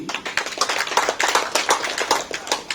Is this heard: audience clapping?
yes